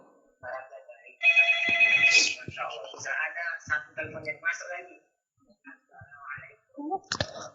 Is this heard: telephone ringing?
yes